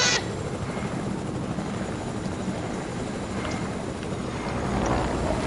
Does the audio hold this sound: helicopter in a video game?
yes